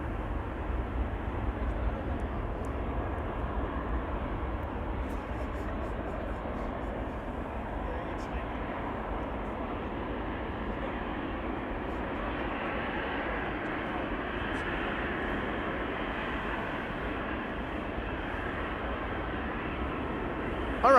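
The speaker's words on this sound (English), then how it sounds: "This is KLM flight 1513 going to Barcelona" A KLM airliner on flight 1513 to Barcelona departs Amsterdam Schiphol Airport in late November, its jet engines a steady, distant broadband roar that holds evenly for the whole stretch.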